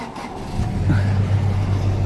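A car engine cold-starting on a used car lot on a winter morning, catching and settling into a steady, close idle with a strong low hum after a brief crank.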